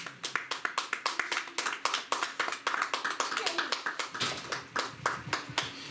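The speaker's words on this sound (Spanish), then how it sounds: "Un aplauso al Señor." Worshippers at a church service clap for the Lord during a sermon, a brisk stream of crisp handclaps in a loose, steady beat, with voices calling out beneath them.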